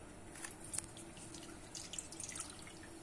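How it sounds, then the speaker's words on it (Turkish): Milk being poured into a bowl for cake or pudding: a faint, steady trickle of liquid with small drips and splashes, soft and close, without talk. "Evet, şimdi sütümüzü dökelim."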